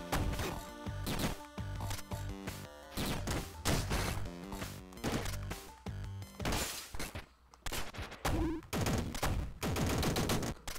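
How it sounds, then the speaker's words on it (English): Rapid bursts of triple-shot weapon fire in the video game Downwell crack out in dense clusters of sharp blasts, loud and nearly continuous with brief gaps, no talk over them. "Triple shot, yeah, that's pretty fun."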